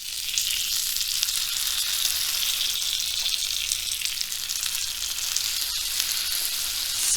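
Uttapam batter sizzles steadily on a hot pan as it is scooped on and spread, a dense continuous frying hiss with no voices, one soft tap near the end.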